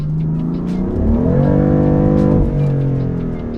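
A BMW M4 on Pilot Super Sport tires, traction control off, accelerates hard in second gear with the tires spinning: a loud, steady engine drone rising in pitch, then dipping and holding, close and continuous.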